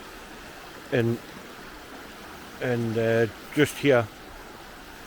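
The River Derwent, running about two feet higher than usual, flows in a steady broadband rush throughout, while someone speaks briefly over it in a few short phrases.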